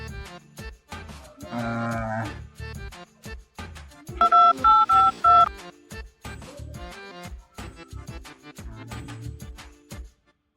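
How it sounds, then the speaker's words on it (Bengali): A mobile phone keypad sends a quick run of dialing tones, several short beeps in a row, surrounded by scattered handling noises and clicks. "আমি একটু ফোন করি জেনে দেখি"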